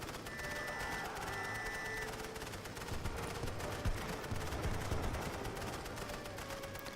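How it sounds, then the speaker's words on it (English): Sustained machine-gun fire in the WWI strategy game The Great War: Western Front, dense crackling bursts of gunfire running steadily throughout with battlefield noise layered underneath. "I would love that the MG stopped shooting at those who are running away."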